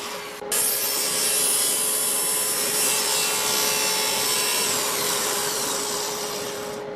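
A hand saw cuts stop cuts into a wooden mallet handle, giving a steady, close back-and-forth rasp that begins after a short pause and runs continuously.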